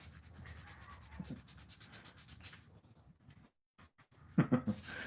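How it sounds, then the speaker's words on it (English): Rhythmic rubbing strokes of a sword knob being polished by hand in a tiny workshop, a steady back-and-forth scrubbing that pauses briefly midway before resuming with a couple of louder strokes. "I'm polishing a knob."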